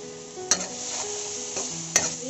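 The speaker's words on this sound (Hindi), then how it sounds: "अब हम इसको 2 से 3 मिनट के लिए इन मसालों को अच्छे से भून लेंगे।" Spices stir-fry in a pan for a paneer roll filling, with a soft continuous sizzle broken by two sharp spatula clacks against the pan, close and alone without talk.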